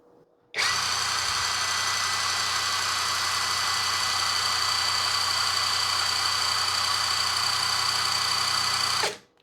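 A TECEPO 400 N·m 21 V cordless impact wrench spins freely at speed setting 1, a steady high-pitched motor whine starting abruptly, holding constant for about nine seconds, then cutting off.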